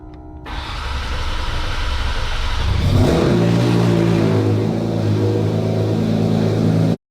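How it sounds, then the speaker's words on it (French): A Porsche 911 GT3 RS with a PDK gearbox, restored after flood damage, fires its exhaust for the first time: a loud, steady engine roar rises and holds with a deep, even drone right up to an abrupt cutoff. "On va entendre le bruit des pots d'échappement pour la première fois."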